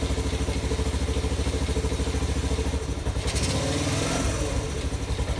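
A Honda CT110 motorcycle engine idles steadily nearby, a rapid even putter with a slight rise and dip partway through, loud and alone without any talking.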